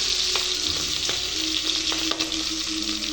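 Chopped onion sizzles in hot oil seasoned with kalo jeera, dry red chilli and bay leaf, a steady bright frying hiss with a few soft stirring clicks throughout, close and continuous with no voices.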